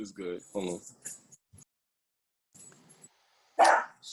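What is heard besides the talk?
small dog barking loudly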